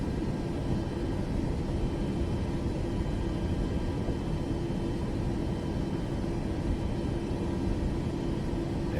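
Steady, even rumble of an airliner on approach to runway 4 right during an exam flight, a constant droning engine and wind noise heard from inside, unchanging throughout.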